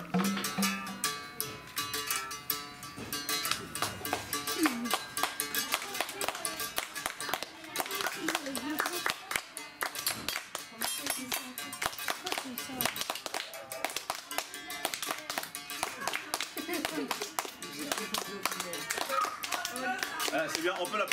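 A calabash is struck with a small flat pebble and a little wooden stick, giving a fast, steady run of dense, sharp percussive taps that keeps going without a break.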